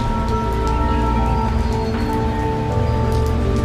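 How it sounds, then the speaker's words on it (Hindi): Steady, moderate rain falls outside a poor family's home, a continuous even hiss of drops over sustained low musical tones, with no voices. "बारिश अब भी लगातार हो रही थी, लेकिन पहले जितनी तेज नहीं थी।"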